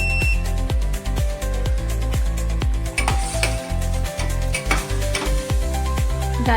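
Chunks of bottle gourd, potato, carrot and stems stir-fried in a pan, a steady sizzle with a spoon scraping and clinking rhythmically against the metal, close and fairly loud throughout.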